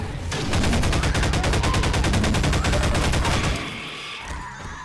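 Rapid automatic gunfire in Half-Life 2: Episode 2, a loud sustained burst of evenly spaced shots lasting about three seconds before cutting off into quieter echoing ambience.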